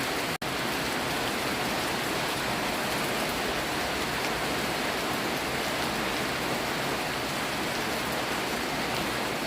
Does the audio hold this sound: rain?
yes